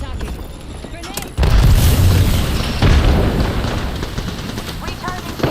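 Grenade blast in a squad shooter video game, a sudden loud broadband boom after about a second of quieter battle noise, followed by a sustained rumbling roar and a second thump near the three-second mark.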